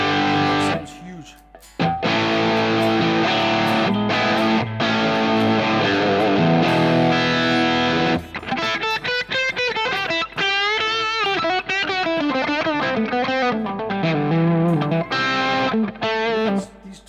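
Electric guitar played through the overdrive channel of a Marshall amp model running in GigFast Lite neural amp modelling on an iPad, loud and distorted, with sustained chords giving way to busy lead lines and bends.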